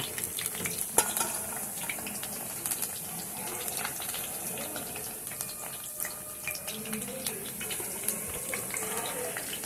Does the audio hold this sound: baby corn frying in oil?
yes